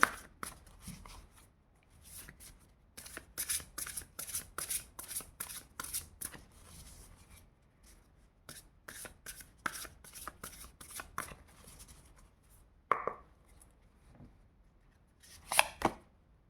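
Tarot cards are shuffled for a reading in a rapid series of close, crisp riffling bursts, pausing briefly and then resuming, with a few louder slaps near the end.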